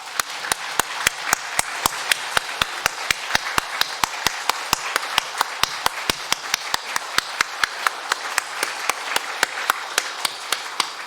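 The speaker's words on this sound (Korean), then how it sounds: "다시 한번 박수 드립니다." A church congregation at a Sunday worship service claps in a steady, even rhythm, with sharp regular claps filling the room continuously and no talk over them.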